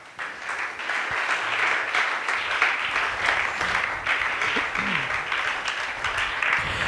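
A church congregation applauds, sustained dense clapping filling the whole stretch at a steady, fairly loud level with small rises and dips and no pauses.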